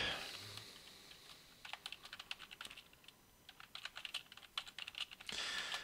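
Code being typed on a computer keyboard while building a platform game, with quick irregular bursts of key clicks, close and clear, separated by short pauses and ending in a denser flurry; no talking.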